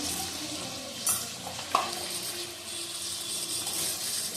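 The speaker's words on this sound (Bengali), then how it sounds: "ভালো করে কষিয়ে নেব।" Tomato, ginger paste and garlic paste fry in a pan for a potol curry as they are stirred, a steady sizzle broken by a couple of sharp utensil knocks near the start.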